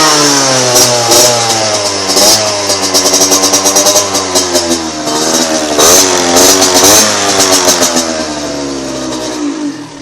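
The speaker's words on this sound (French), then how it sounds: "la moto fait un très très joli bruit avec ce pot" A motorcycle engine revs repeatedly through a loud Bidalot SCR Corse exhaust, rising and falling in pitch, close and prominent with no talking.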